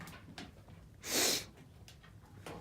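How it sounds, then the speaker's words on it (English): An animal sniffs around on a wooden cabin deck, with one loud burst of snuffling breaths in the middle and faint sniffs before and after. "She's just sniffing around even though she's been on here a million times."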